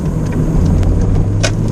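A VW Corrado VR6 engine drones steadily and smoothly at close range, a constant low hum with a faint upper whine and no voices.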